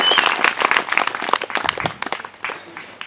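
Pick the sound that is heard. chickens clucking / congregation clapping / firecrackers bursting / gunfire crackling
congregation clapping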